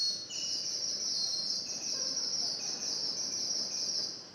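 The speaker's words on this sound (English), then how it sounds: "It's the bird whistle." A bird whistle is played as a sound effect in a school auditorium, giving a continuous high, warbling birdlike trill that holds steady for several seconds without talk.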